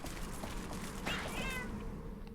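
A cat companion meows in the video game Monster Hunter Generations Ultimate, a single clear meow in the middle of a steady bed of game sounds and music.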